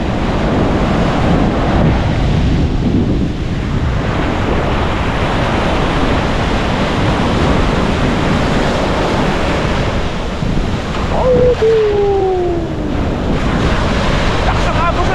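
Rough sea waves and a strong current pounding the shore at Bucana, Batangas during a typhoon, a loud, continuous roaring surf heavily mixed with buffeting wind noise, with a brief voice partway through.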